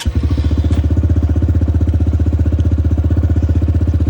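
A dirt bike engine warming up, idling steadily with a fast, even rhythmic chug and a light mechanical clatter, loud and close throughout with no voices over it.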